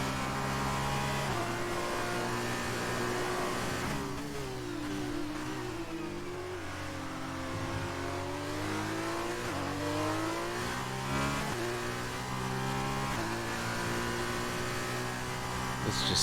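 An F2 race car in a racing video game revs hard and shifts through gears at a US circuit. The engine pitch repeatedly sweeps up, drops at each change and climbs again, loud and continuous with no talk.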